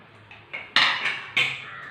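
Cooked dal and onions being moved into another pot, with close, loud clanks and scrapes of a metal ladle and vessels knocking together in a few bursts.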